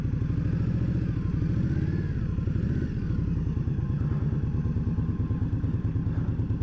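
A motorcycle engine runs close and loud with a steady rapid thumping idle and a brief rise and fall in revs early on, continuing without talk.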